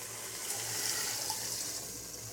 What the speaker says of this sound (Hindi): अब हमने जो यखनी निकाल के रखी थी ये ऐड करेंगे।